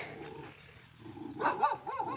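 A dog barks on a rural farm field next to paddy land, giving a few short, moderately distant barks in the second half over quiet outdoor ambience.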